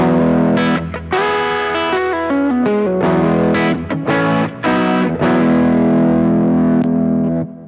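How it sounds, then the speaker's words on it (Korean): An Enya Inspire smart guitar with its bridge pickup in series mode plays a loud distorted riff of sustained chords and single notes, thick with effects and a touch of chorus, no voices. "지금 직렬 상태의 소리고요."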